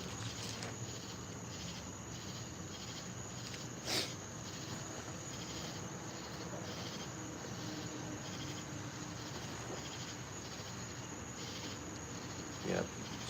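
Crickets chirp in steady, continuous pulsing rhythm through a humid summer night, a dense insect chorus that fills the whole stretch, with a couple of brief louder knocks standing out against it.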